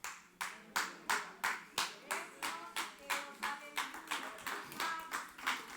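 A church congregation claps in unison, with sharp, evenly spaced beats, roughly three per second, in a steady rhythm throughout, while a voice sounds faintly underneath.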